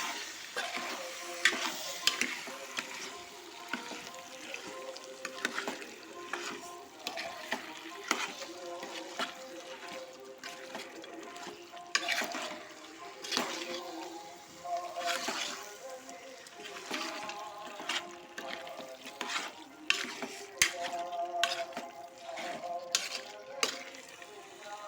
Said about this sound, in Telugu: కలిపి పెట్టుకున్న చికెన్ని తాలింపులో వేసుకొని బాగా కలుపుకున్నాము